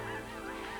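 A flock of snow and blue geese at Sand Lake Refuge in late autumn honks in a dense, continuous chorus of overlapping calls, faint and distant.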